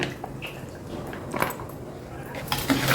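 Mango pickle (aavakaya) is stirred with oil and ground spice powder in a bowl, giving soft wet squelches and light clinks against the dish, with a faint voice in the background.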